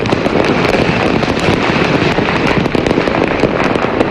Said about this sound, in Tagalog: Nagdingding ang kalangitan kagabi dahil sa makukulay na fireworks bilang pagsalubong sa bagong taon.